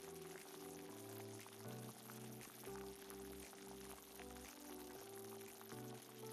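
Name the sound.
cauliflower pieces deep frying in hot oil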